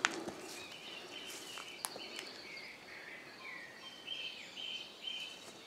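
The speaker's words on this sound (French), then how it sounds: "On entend encore beaucoup d'oiseaux" Several birds chirp and call intermittently at moderate distance near the mouth of a cave, high thin notes scattered over faint ambient noise, with a few light footstep-like knocks.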